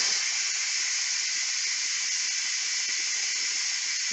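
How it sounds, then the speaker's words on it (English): Steam blasting from a pressure cooker's release valve after cooking chicken and rice, a loud, steady hiss that runs unbroken for the whole stretch, close to the microphone and without any voices. "Time to release the pressure."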